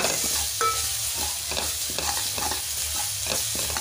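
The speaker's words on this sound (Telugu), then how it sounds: "అల్లం వెల్లుల్లి పేస్ట్ మగ్గిన తర్వాత ఇందులో టమాటా ముక్కల్ని కూడా యాడ్ చేసుకొని మంచిగా కలుపుకోవాలి" Tomato pieces stirred into ginger garlic paste frying in a pan for a spicy sardine fish curry, giving a steady sizzle broken by repeated scraping stirs at an even rhythm, close and moderately loud with no talk.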